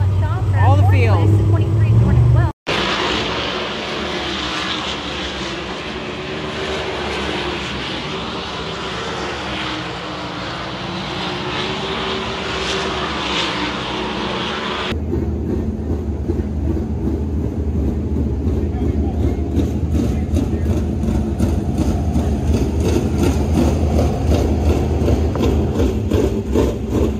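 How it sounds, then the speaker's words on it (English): Dirt track race car at Williams Grove Speedway roaring through hot laps, a loud continuous engine drone that holds steady before a brief cut, then returns as a close, rougher rumble with rapid pulsing. "in this car, ready to go out for hot laps for the first time."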